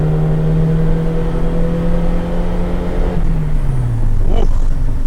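Honda EF hatchback engine droning loud and steady at wide open throttle with the AC running, a sustained in-cabin tone that holds and then drops in pitch as the revs fall near the end.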